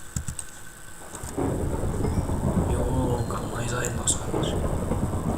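Steady rain hiss in Minecraft during a winter let's play, starting softly and swelling into a dense, continuous downpour partway through, with someone talking over it.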